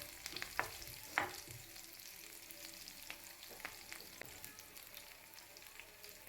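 Curry leaves sautéing in hot oil for a sambar tempering, a close, steady sizzle broken by sharp crackles and pops and a few spoon scrapes against the pan.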